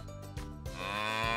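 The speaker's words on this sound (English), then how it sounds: "Lots of cows hanging out together in a big field." Cows in a big field give a long, drawn-out moo that swells and holds, close and clear, with no voices around it.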